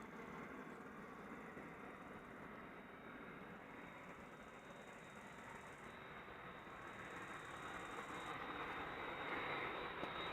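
An airplane at Amsterdam Schiphol Airport gives off a distant, continuous broadband roar that holds steady and swells slightly louder toward the end, with no voices.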